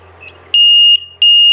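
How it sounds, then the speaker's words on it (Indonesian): A pond safety system's alarm buzzer sounds, two loud piercing steady electronic tones with a short gap between them, close and alone after a faint hum. "Nah, sinyal bahaya nyala, otomatis, ya, otomatis alarm juga nyala."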